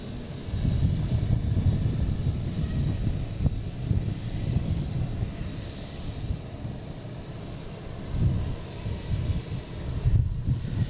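A United Airlines Boeing 737 MAX 9 jet bound for Chicago at Boston Logan gives off a continuous low engine roar, steady and moderately distant, with wind buffeting the microphone throughout.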